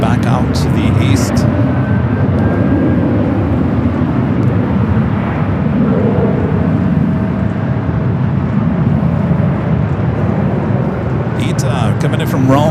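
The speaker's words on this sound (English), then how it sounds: "Ita coming in from Rome with the A350-900." An ITA Airways Airbus A350-900 arriving from Rome into LAX makes a loud continuous jet roar throughout, with a person speaking over it near the start and end.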